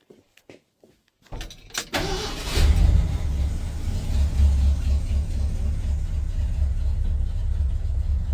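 A Ford F100 truck engine catches after a few clicks and settles into a steady low idle around 600 rpm, a close, continuous rumble with no talk over it.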